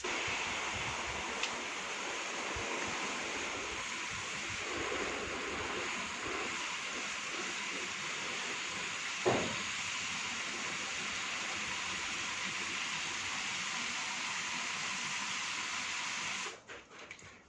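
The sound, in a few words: water running from a garden hose onto peat moss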